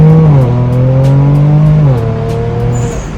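Loud, close exhaust drone from a straight-piped Kia Stinger running without primary or secondary cats or rear mufflers, the engine note stepping down and holding steady in a deep, raspy hum with no voices.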